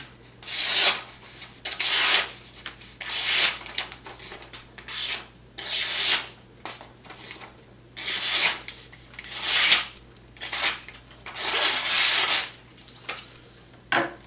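A knife blade is drawn along the stones of a Wicked Edge sharpener in steady rasping strokes, about a dozen separate swipes with short pauses between them, close and clear.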